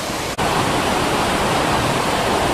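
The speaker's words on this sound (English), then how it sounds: "The water is draining out of here." Backwash water drains from a sand filter bed at a water treatment plant, a loud, steady rushing roar like a waterfall with a momentary break near the start and no voices.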